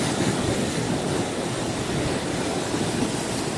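Ocean waves crash continuously on Kovalam beach in Kerala, a loud, dense, unbroken roar of surf with wind buffeting the microphone throughout.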